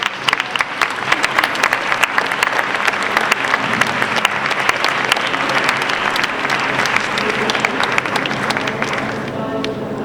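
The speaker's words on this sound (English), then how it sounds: "let's give them a round of applause" Conference crowd at an international AIDS conference giving a full round of applause, a loud continuous wash of many hands clapping that carries on for about ten seconds, with faint voices mixed in.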